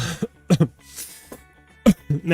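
Several harsh coughs and throat-clearing bursts from a man in a home kitchen while he waits for pasta water to boil, loud and close, in uneven clusters separated by short pauses.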